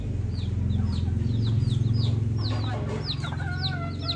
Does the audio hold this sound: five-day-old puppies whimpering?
no